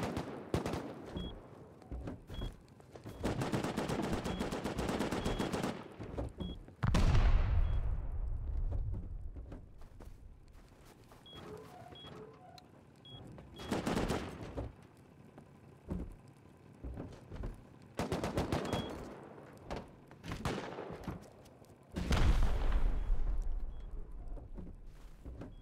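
Bursts of automatic gunfire and heavy weapon blasts in the survival game Rust during a base raid, loud, close and repeated in clusters with deep booming impacts between them.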